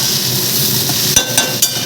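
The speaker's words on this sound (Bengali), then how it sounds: "উচ্ছে আলু ভাজা হচ্ছে" Bitter gourd and potato pieces fry in a pan with a steady, even sizzle, broken near the end by three sharp metallic clinks of a utensil stirring against the pan.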